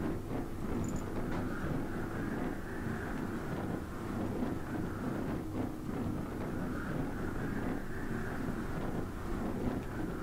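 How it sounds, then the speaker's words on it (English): Rushing wind noise in an Alabeo DA40 flight simulator cockpit, a loud steady roar of air that nearly buries the low drone of the single engine beneath it, constant and unbroken with no talk. "you can barely hear the sound of the engine over that air, of that wind."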